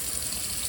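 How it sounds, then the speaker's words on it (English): Water runs steadily from a tap into a cup in a classroom art room, a soft continuous hiss and pour with no voices, heard only briefly. "Take a water cup and you're going to fill it up about halfway"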